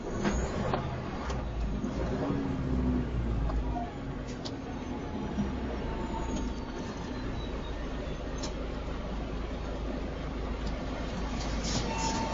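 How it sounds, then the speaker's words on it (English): A truck rolls along a freeway with a low, steady engine and road rumble heard from the cab, continuous throughout, with faint clicks and rattles and a voice speaking at times. "a trucker's dash cam recording him confronting another truck driver going the wrong way on the freeway"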